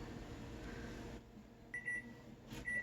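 A kitchen timer set for boiling potatoes goes off with faint, short, high electronic beeps, two brief tones after a stretch of quiet room hum.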